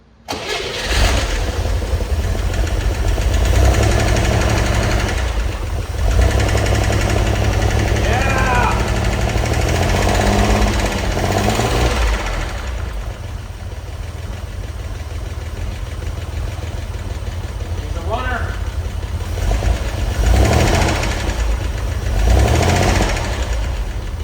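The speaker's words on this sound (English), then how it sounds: "Noise we were hearing was definitely the fan." A car engine runs at a rough, steady idle with a loud whooshing cooling fan, close and continuous, with a couple of brief squeaks and faint talk underneath.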